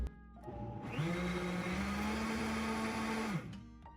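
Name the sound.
blender blending ice cream base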